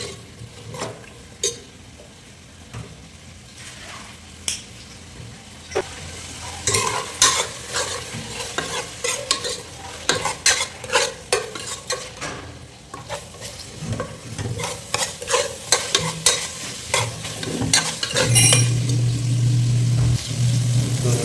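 Beef fat fries in a pot for beef biryani, giving a continuous sizzle with frequent clattering stirs of a ladle against the metal, close and busy, and a low engine-like hum rising near the end.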